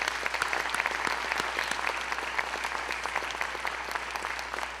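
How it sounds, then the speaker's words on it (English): An audience claps steadily for grant-winning schools at the Stop the Hate awards ceremony, a sustained, even round of applause throughout with no voices on top. "Can we give them a round of applause?"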